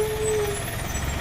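A truck passes on the Nagar–Kalyan highway in India, a steady close engine and tyre rumble with a brief high tonal squeal early on, continuous throughout.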